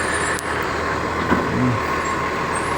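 A garbage truck rumbles on a busy CBD street in Newcastle, its steady engine drone broken by a brief sharp hiss and a short low tonal blip from the brakes amid traffic noise.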